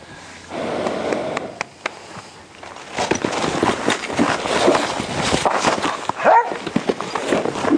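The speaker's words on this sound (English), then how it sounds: "why don't they shut that damn dog off" A dog barks repeatedly nearby in short bursts while an Arab gelding is worked outdoors, with wind buffeting the microphone and some outdoor rustling around it.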